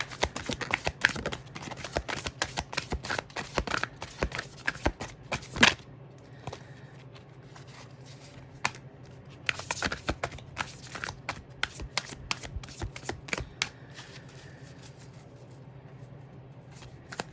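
Tarot cards are shuffled in rapid riffling bursts, close and crisp, with a pause in the middle before another run of shuffling, and no talk.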